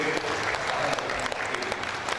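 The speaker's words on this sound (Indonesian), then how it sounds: "Kita harus kasih aplaus luar biasa buat angkatan" An audience at an alumni gathering applauds, a dense, steady wash of clapping from many hands throughout, fairly close and full.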